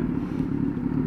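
A Kawasaki Versys 1000 SE motorcycle arrives, its engine a steady low rumble throughout a short moment, close and moderately loud with no talk.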